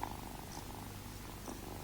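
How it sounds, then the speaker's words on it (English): A cat purrs in a quiet room, a soft, steady, continuous low rumble with gentle rhythmic pulsing and no voices. "Your Red Majesty shouldn't purr so loudly."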